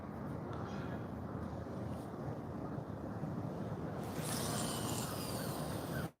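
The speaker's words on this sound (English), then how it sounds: "How's the wind when it blows like that, guys? Can you hear it real bad in the mic or no?" Strong wind buffets the microphone beside a park fishing pond, a loud, steady rumbling roar throughout that grows rougher and brighter toward the end before cutting off.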